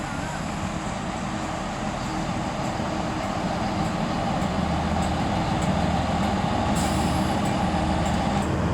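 A two-carriage Class 165 diesel unit pulling out of Ashchurch for Tewkesbury station, a steady loud engine rumble and drone holding throughout with a brief brake hiss near the end.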